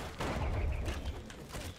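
Gunfire from an action video game bursts out in a rapid cluster of overlapping shots that rattle for under two seconds, fairly loud and without speech over it.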